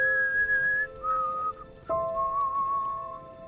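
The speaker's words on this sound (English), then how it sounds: "Oh, here comes Daddy. He's whistling." A character in the video game Enderal whistles a slow, wavering tune in a few held notes, clear against a quiet background with a soft patter.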